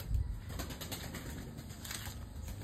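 Rapid fluttering of pigeon wings flapping nearby, a brief burst of flight amid soft rustling, with faint background noise.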